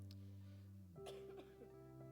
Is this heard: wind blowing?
no